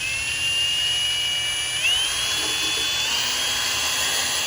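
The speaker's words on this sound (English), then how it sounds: "If you are using a drill instead of a dedicated polisher, make sure it's on a low setting" Drill fitted with a dense buffing disc polishing a Kawasaki jet ski, a steady high-pitched motor whine that steps up in speed partway through, close and alone with no talk.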